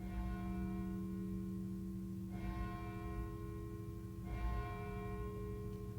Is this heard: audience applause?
no